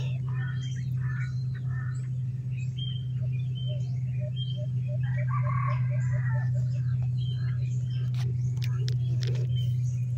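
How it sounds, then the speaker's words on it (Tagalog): A wild junglefowl rooster crows a few times at a distance, faint against a constant low hum and scattered outdoor noises. "may natilawak na labuyo"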